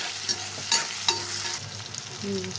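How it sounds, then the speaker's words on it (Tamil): Garlic sautéing in oil for a village-style dried fish curry, a soft sizzle with a few sharp clinks of a spoon stirring against the pan, close and without speech. "இங்கே பாருங்கள் பூண்டு வதங்குது"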